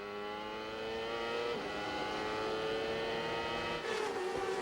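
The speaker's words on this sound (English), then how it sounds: "Downshifting for the long right-hander at the carousel." Dario Franchitti's CART race car at Mid-Ohio in 1997 downshifts for a long right-hander, engine pitch stepping down through gears then climbing again, a steady loud whine heard from on board.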